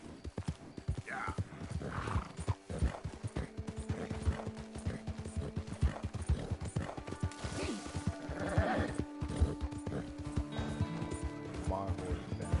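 In Red Dead Redemption 2, hooves clop in a steady rhythm while a horse whinnies. Voices can be heard faintly alongside.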